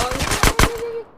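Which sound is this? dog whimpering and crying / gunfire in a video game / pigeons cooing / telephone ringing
gunfire in a video game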